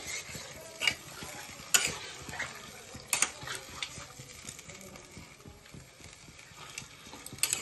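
Chicken cooked with yogurt is stir-fried in a pan: a soft, steady sizzle with sharp spatula scrapes and clinks at irregular intervals, close and fairly quiet.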